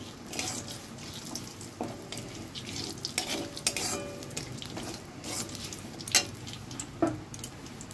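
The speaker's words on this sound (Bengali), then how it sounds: "तेलटा गरम हो गए एर मध्य तेजपाता जिरे शुकनो लंका एलाच दारचिनी दिए नाड़िए निচ্ছি।" Bay leaf, cumin, dried chilli, cardamom and cinnamon get stirred in hot oil, making a soft continuous sizzle with intermittent scraping stirs and a couple of sharper clinks of a utensil against the pan.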